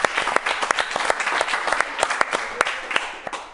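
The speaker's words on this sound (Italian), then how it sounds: "applauso della Mantovana" A television studio audience on a football talk show claps in a lively, uneven patter, with individual sharp claps standing out from the steady crowd applause.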